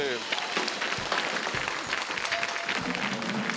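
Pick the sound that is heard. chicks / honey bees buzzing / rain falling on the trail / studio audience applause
studio audience applause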